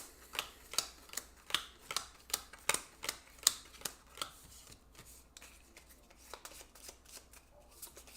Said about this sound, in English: Let's shuffle this up.